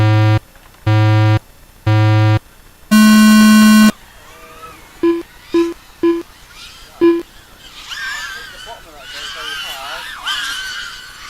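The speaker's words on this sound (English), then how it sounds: "Here come your beeps." Start tones for a drone race: three evenly spaced electronic beeps, then one long, higher tone. A string of short blips follows before voices and crowd chatter take over.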